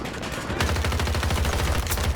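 Rapid automatic fire from an M16A3 rifle in Battlefield 2042, a tight, evenly spaced burst of close, punchy shots rattling steadily for about a second and a half after a short lead-in.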